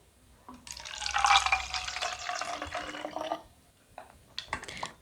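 Water poured into a spray bottle, a steady trickling fill lasting a few seconds at close range, followed by quiet and a couple of faint handling knocks.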